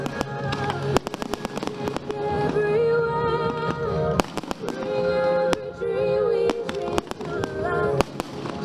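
Fireworks display by Royal Fireworks of the Netherlands at an international fireworks competition, dense rapid cracks and booms in quick succession with crackling bursts and a loud crowd roaring underneath.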